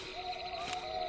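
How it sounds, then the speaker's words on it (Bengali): Owls hooting at night in trees, an eerie horror-story atmosphere, heard as a steady sustained call with a faint background hiss and no voices. "গাছে গাছে পেঁচারা ডেকে চলেছে ক্রমাগত।"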